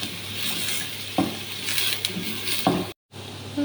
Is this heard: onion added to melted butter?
yes